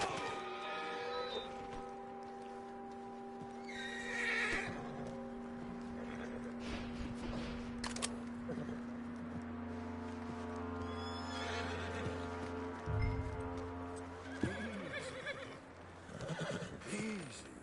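Horse in the video game Red Dead Redemption 2 gives several whinnies and neighs over quiet, hoof-clopping ambience and low tonal background, at moderate distance and fairly soft.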